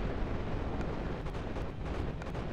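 Rapid-fire guns opening fire in the naval strategy game Capital Command, heard as a dense, continuous rumble of heavy gunfire and blasts without distinct separate shots.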